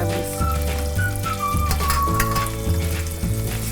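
Chilies for dendeng balado cook down in a pan in a loud, close, even sizzle, with faint stirring knocks and a thin whistling tone.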